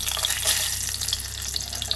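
Cashews and raisins fry in hot ghee for an Aarti payasam, giving a close, busy crackle and sizzle with light spoon stirring throughout.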